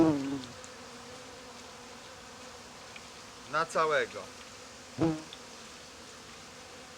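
Honeybees buzz steadily around an open hive being joined with another colony, a soft continuous drone beneath brief bursts of nearby speech.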